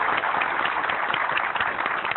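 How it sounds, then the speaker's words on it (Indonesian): Audience at a motivational talk applauds steadily, a dense wash of clapping with no voices over it. "Boleh tepuk tangan sekali lagi untuk."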